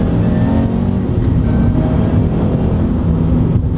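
A supercharged Subaru BRZ accelerating through a curve, its engine a loud, steady, close-up drone that holds a strong, sustained note from start to finish.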